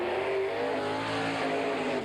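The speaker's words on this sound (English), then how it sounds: "these sprint cars sound like the modifieds used to sound a bunch of years ago" Sprint race car engines roaring at the Hales Corners track in 1987, a steady, loud and dense mechanical drone that holds throughout without pause or talk.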